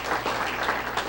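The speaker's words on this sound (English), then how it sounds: "let's give all of our breakfast sponsors a great round of applause" An audience at a Student of the Month breakfast event claps for the breakfast sponsors, a dense, steady round of applause from many hands in a room.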